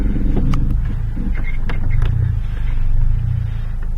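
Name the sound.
Volkswagen engine running with power steering pump noise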